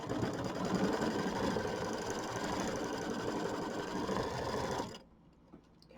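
An embroidery machine stitches a placement line for a Kimberbell mini quilt, a steady, fast mechanical whir with rapid needle chatter running loud and close for about five seconds before cutting off into near silence.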